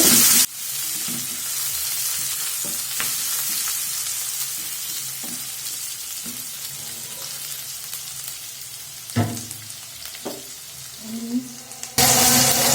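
Chopped onions fry in a pan for an egg dish with onion shoots, giving a steady loud sizzle with occasional stirring scrapes and pops; no talking.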